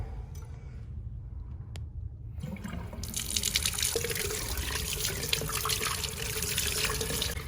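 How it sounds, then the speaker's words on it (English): Tap water runs onto a yellow sponge at a sink during cleanup after clay work: a quiet start, then a steady, fairly close splashing stream that continues to the end. "Get the sponge wet."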